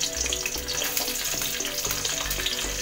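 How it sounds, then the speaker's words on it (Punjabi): Ivy gourd (kundru) fries in hot oil with a dense, continuous sizzle and crackle close by, and occasional faint stirring knocks underneath. "ਤੇਲ ਗਰਮ ਹੋ ਗਿਆ, ਤੇਲ 'ਚ ਪਾ ਲਾਂਗੇ।"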